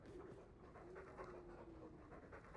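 Dog panting steadily in the video game Dragon Age 2, a continuous breathy rhythm close up over a faint ambient game background.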